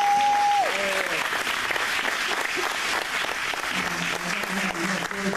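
Church congregation applauding for Jesus during a service, with steady broadband clapping filling the space throughout, some voices and a brief tonal sound mixed in.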